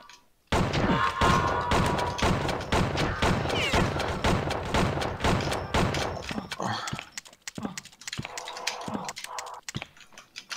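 Rapid bursts of gunfire from the multiplayer capture-the-flag mode of the video game Outlaws crackle in dense, loud volleys that thin out into scattered shots and thumps near the end.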